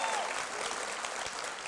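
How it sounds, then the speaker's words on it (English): Audience applause at a charity spring fashion gala, a steady wash of clapping from a crowd filling the short moment without a break. "A round of applause if you're family of the models."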